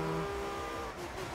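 A Ferrari FXX K races in The Crew 2, its engine a steady, close, sustained drone with a faint dip in pitch partway through.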